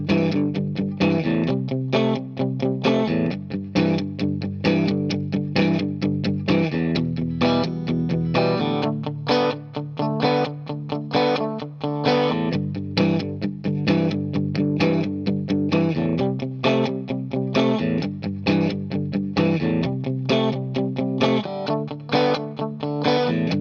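Steady strummed electric guitar with distortion and a chorus-like effect plays the verse of a song, a driving, even rhythm with chord changes, loud and close, with no voices.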